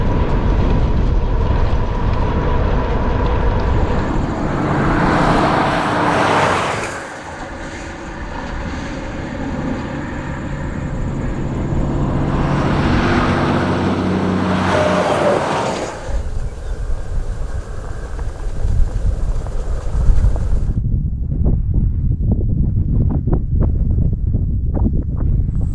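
Strong, loud wind rush buffets the microphone while a bicycle speeds along smooth pavement with a tailwind in South Dakota, a continuous roar with two swelling gusts, then dropping to a lower, rougher rumble near the end.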